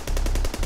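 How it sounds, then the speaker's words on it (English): A quick, rattling string of gunshots fired in rapid succession, like a short automatic burst, during a raid. "the gunshots awoke the armed groups in the area"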